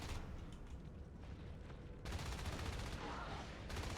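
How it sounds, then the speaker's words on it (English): Hydras firing on Marines in the game Natural Selection, a dense continuous rattle of rapid gunfire and mechanical clatter, steady and loud with a brief shift in intensity midway. "this is where Turts gets his damage farm in, with Hydra shooting Marines"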